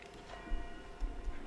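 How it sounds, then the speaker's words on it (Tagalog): A church bell rings out at three o'clock in the afternoon from a parish in a Kapampangan town, faint and distant, its tone lingering while a few soft low strokes sound. "na tutunog la rin kampana"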